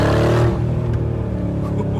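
Mercedes G63 G Wagon V8 revving hard then settling into a burbling, Harley-like idle, a loud throaty rumble up close with a steady low pulse.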